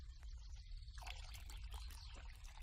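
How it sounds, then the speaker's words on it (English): Water poured into a cauldron in the video game Kingdom Come: Deliverance, a soft continuous trickle and splash at low level with no talking. "Pour water into the cauldron first."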